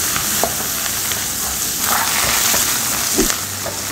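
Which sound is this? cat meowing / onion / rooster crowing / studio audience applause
onion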